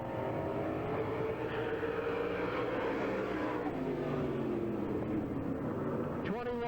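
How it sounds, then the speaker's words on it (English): Viper chassis Camaro race car at full throttle during speedway time trials, steady engine roar with slowly shifting pitch, loud and continuous under an announcer's voice. "This is a Viper chassis Camaro."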